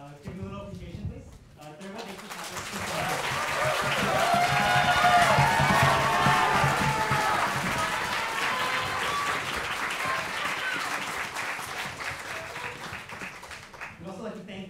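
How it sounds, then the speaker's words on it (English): A concert audience at an MIT student orchestra performance cheers and applauds, the clapping and whoops swelling after a brief quiet start, then slowly tapering while staying full and close. "So cheer for your friends. Give them a little appreciation, please."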